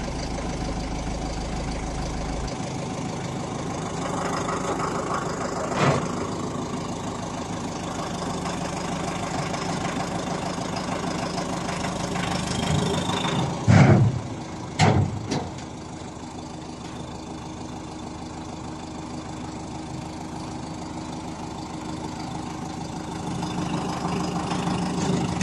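Dongfeng 1204 tractors idle steadily while being unloaded, a continuous mid-to-low engine drone with a few sharp clanks and knocks partway through, and no voices.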